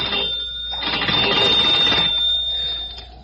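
A 1950s telephone bell rings loudly and continuously for about two seconds, a bright metallic trill that fades out, with no voices.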